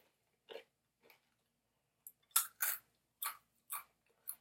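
Crunchy Giant Peruvian Inca corn kernels are chewed close to the mic: a few sparse bites at first, then a quick run of loud, sharp crunches in a broken rhythm against near silence.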